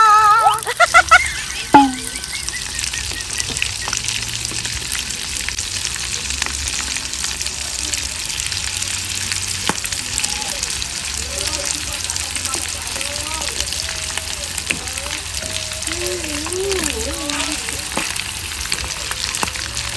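Loud, steady sizzling and crackling of chicken frying in hot oil fills the entire stretch, with occasional bubbling pops and brief voices underneath.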